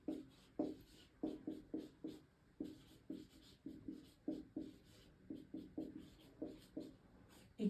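A pen writes maths equations by hand on paper in a quiet, close series of regular scratching strokes with a steady rhythm.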